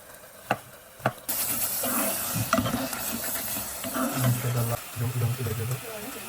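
Beef and spices being sautéed in a pan, a moderate sizzle with stirring scrapes and a couple of sharp knocks at the start, heard under faint background voices.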